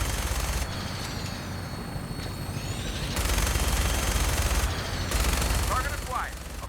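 Fallout 4 combat fire: guns crackle in sustained volleys that swell and break off in blocks, with a voice speaking over the shooting.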